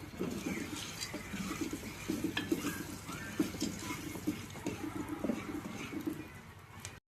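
Popcorn kernels popping in a pan on a home stove, a faint, steady patter of small pops over a soft hiss, continuing for several seconds.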